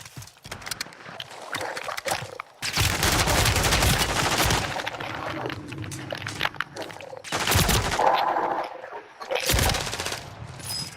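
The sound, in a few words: gunfire in a video game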